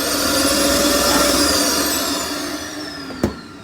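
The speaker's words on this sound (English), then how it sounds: "is Dirt Devil central vacuum. Your on-off switch is here. Just gonna hit it real quick." A Dirt Devil central vacuum in a 2020 Jayco Jay Flight Bungalow 40BHTS travel trailer whines loudly at first, then spins down with a falling pitch, ending with a sharp click as it switches off.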